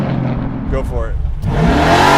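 An 850hp Chevelle muscle car launches hard: a loud, sustained engine roar swells sharply partway through, with voices briefly in the background.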